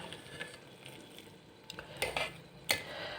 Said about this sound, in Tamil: சாதத்தை வந்து இப்படி நல்லா கொஞ்சம் மசிச்சு விட்டுக்கோங்க